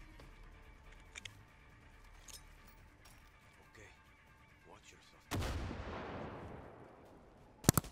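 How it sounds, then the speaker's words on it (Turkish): A bomb blast in the Far Cry 6 video game bursts loudly about two-thirds through and rumbles as it decays, followed by sharp gunshot cracks at the end, after quieter game ambience with scattered faint shots. "Bomba attım adamı."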